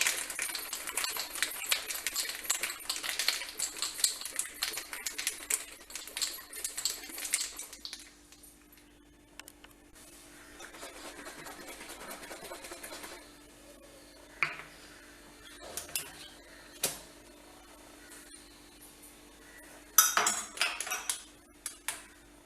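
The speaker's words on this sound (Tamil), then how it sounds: "இதை நல்ல டைட்டான பாட்டிலில் போட்டு நீங்கள் நல்லா குளுக்கணும்" A tight bottle of pineapple kulukki sarbath with lemon peel is shaken hard, a rapid rattling clatter of ice and liquid at first that later thins to sporadic knocks and jostles, with no voices.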